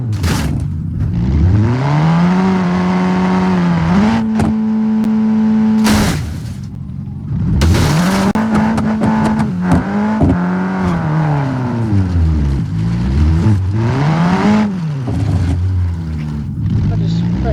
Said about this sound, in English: this engine sounds a lot more big and beefy than the others